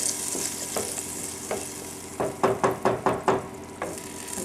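Tomato sauce for basil meatballs stirred in a pot with the flame off, a quick run of wet, knocking spoon scrapes against the pot after a few slower stirs, with faint residual sizzle.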